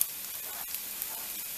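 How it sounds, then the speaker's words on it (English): Broth poured into a hot pan of aromatics gives a steady bright sizzle, close and loud throughout the short moment, without speech. "And to that, I'm going to add broth."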